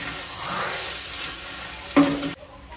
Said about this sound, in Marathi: आणि हे सगळे मसाले आता परतवून घेणार